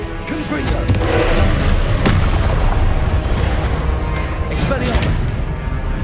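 A dense run of booming blasts from the Confringo spell in Hogwarts Legacy, loud and continuous, mixed with spell-casting voices shouting incantations.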